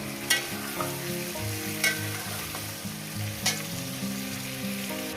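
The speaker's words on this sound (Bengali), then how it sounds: "মিনিমাম সাত থেকে আট মিনিট আমি মাংসটাকে ভেজে নেব" Chicken meat frying in a pan for a meat curry gives a steady close sizzle, with a few sharp scrapes from stirring and tuneful background music running underneath.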